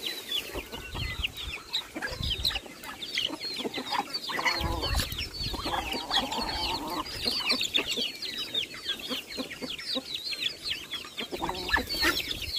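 A flock of large, hungry chickens clucks and squawks continuously up close, overlapping calls of many birds with occasional louder outbursts and a distant crow.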